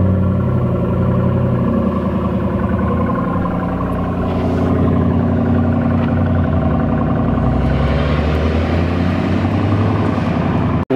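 Engine of a boosted Mazda NC Miata driving on a test drive at night, a steady loud interior drone with harmonic bands rising and falling as it revs, no talking.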